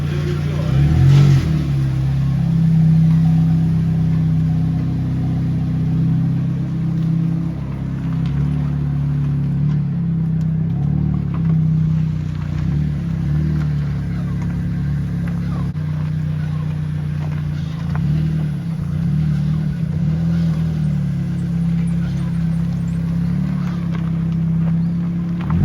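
A K11 project car drives out with its engine running steadily and revving in swells, loud and close throughout, as people talk over it.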